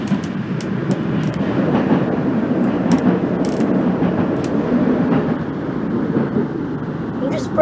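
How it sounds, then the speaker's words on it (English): A simulated train on the Redwich to Birmingham New Street route in the Open BVE train simulator rolls along with a continuous low rumble of wheel and flange noise, punctuated by sharp, regular rail-joint clicks. "the flange wheel is actually very good"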